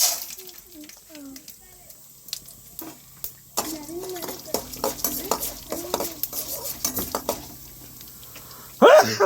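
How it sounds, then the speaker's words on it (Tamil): Oil crackles and pops in a pan as mustard seeds and lentils fry, with scattered spatters and stirring clinks, a voice talking intermittently over it. "எண்ணெய் நல்லா சூடாயிருச்சு தாளிக்க வந்து கடுகு கடலப்பருப்பு ரெண்டு சேர்த்துக்கலாம்"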